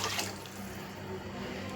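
Water pours steadily into a cooking pot in a continuous splashing stream, close by, with no voices.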